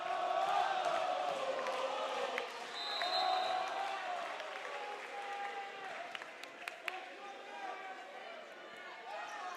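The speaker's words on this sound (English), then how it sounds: "And Clayton Pickett lighting up this Milford crowd." Home crowd and student section cheering at a high school boys volleyball tournament quarter-final in a gym, a roar that swells and fades under an announcer's commentary, with sneaker squeaks and ball hits.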